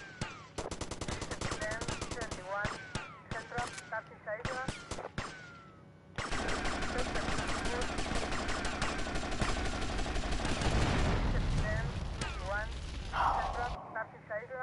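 Rapid gunfire in GTA Vice City, a dense stream of shots starting in short bursts and then running steadily for several seconds, loud and continuous, with game voices mixed in.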